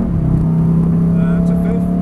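A Lamborghini engine drones loud and steady on a track driving experience, its pitch holding as it drops down to fourth gear, with an instructor's voice talking over it.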